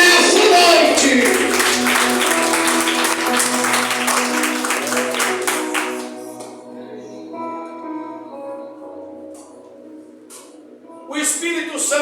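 A church congregation claps through a worship service alongside sustained keyboard music and a loud voice, the dense applause thinning out after about six seconds while the music carries on softly.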